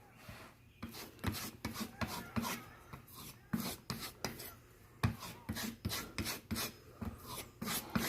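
Kitchen knives being sharpened, with a burr noted on one blade: close, repeated rasping strokes in quick irregular bursts, each a short gritty scrape, with no talking.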